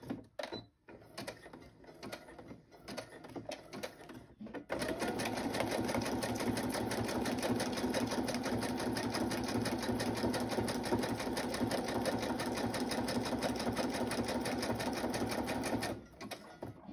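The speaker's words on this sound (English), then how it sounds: "I'm going to go ahead and do a zigzag along here." A sewing machine stitches a zigzag on paper ephemera, starting after a few quiet seconds of light handling and then running in one close, steady, rapid mechanical chatter for about eleven seconds before stopping.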